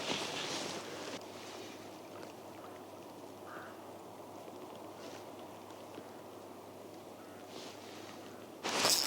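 Wind gusts against the microphone in soft rumbling bursts, strongest at the start and end, with an otherwise steady low outdoor hiss, sheltered behind trees while fishing.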